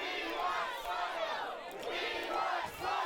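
A crowd at a pro wrestling match shouts and yells together, a loud continuous roar of many voices that rises and dips in waves.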